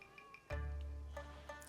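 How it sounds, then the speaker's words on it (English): Cat meowing in the Assassin's Creed video game, a few soft, faint meows over a steady low game ambience and music hum. "I hear a cat. It's so cute."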